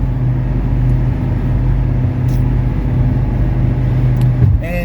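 A 1979 Mercedes 300SD diesel cruises on the highway at about 75 mph, a steady loud engine drone around 3,000 RPM with constant road and wind noise from inside the cabin.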